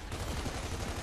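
Rapid gunfire in a competitive online shooter match, a dense burst of repeated shots with no gaps, faint and distant in the game mix.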